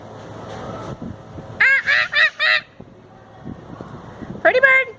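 Wild parrots in Florida, loud harsh squawks in a quick burst of four calls followed by another raucous call near the end, close by, with low background sound between.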